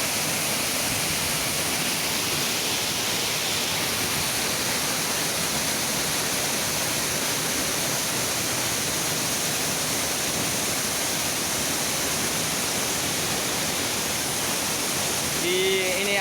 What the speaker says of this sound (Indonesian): Ini adalah air terjun Doyam Tembala bos.